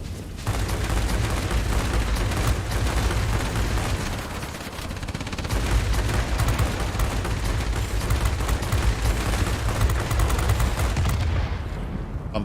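Continuous dense machine-gun fire and explosions in World of Warplanes combat, loud and unbroken with rumbling engine noise beneath, barely easing for a moment midway.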